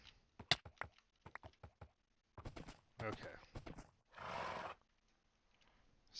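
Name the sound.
horse in Minecraft video game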